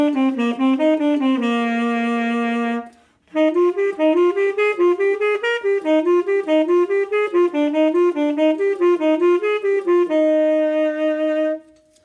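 The Clark Study scale exercise is played on a solo pitched instrument as clean, even notes. A short opening phrase ends with a held tone, then a brief pause gives way to a longer run of stepwise patterns that finishes on a sustained note.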